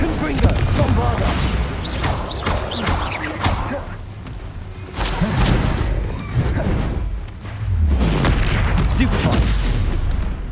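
Explosive Bombarda and Confringo spells in the Hogwarts Legacy video game, with repeated booms and whooshing blasts. They come in dense bursts through a loud, busy battle, with spell-shouting voices over them.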